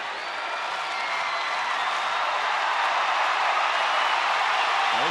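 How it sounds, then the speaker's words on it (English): Baseball crowd at a Texas Rangers home game against Oakland cheering and applauding steadily, a dense sustained roar of clapping and shouting that stays loud throughout without any voices standing out. "This crowd really fired up now."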